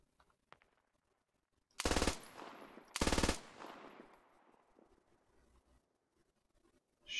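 Machine gun fire in the tactical shooter game Squad, two loud sustained bursts a second apart, each trailing off in echoing reverb, followed by quiet and a third burst starting at the end.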